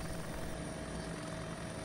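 A helicopter in the video game Arma 2 drones steadily with a dense, constant rotor and engine roar, loud and unbroken, with no voices over it.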